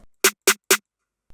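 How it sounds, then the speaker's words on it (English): A programmed snare drum sample in FL Studio strikes three times in even, quick succession, each hit crisp, bright and isolated against silence, with a faint fourth onset at the end. "We have the snare here"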